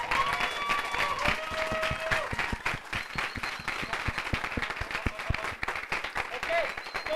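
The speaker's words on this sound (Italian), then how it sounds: "I would say, round of applause for all the poets of tonight." Sustained audience applause at a European poetry slam championship in Rome, dense rapid clapping from a large crowd filling the whole stretch, steady and loud without speech.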